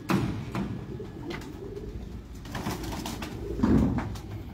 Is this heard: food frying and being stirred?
no